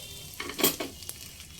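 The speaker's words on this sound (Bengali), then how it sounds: "মিডিয়াম ফ্লেমে তিরিশ থেকে চল্লিশ সেকেন্ড মতো আদা রসুন পেঁয়াজের সঙ্গে একটু ভাজা করে নিয়েছি" Ginger-garlic paste frying with onions over a medium flame for mutton kasha: soft sizzling bursts and a stir or two, fairly faint and close, with no voices.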